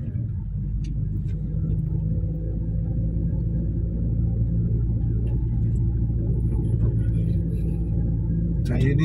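Toyota Innova engine running while driving in third gear, a steady low thrumming rumble with a diesel-like character, continuous under people talking close by.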